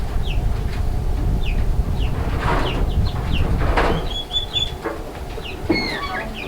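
Chickens clucking outdoors in a yard pen, scattered short calls near and far over a rustling, noisy background, with a few sharper squawks toward the end.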